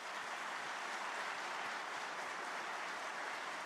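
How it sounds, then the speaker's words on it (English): Audience applause at the Nixon Library, a dense, steady wash of many hands clapping, fairly distant and even for the whole stretch with no voices over it. "I think first of all, Mr. Haise, let's give him a round of applause."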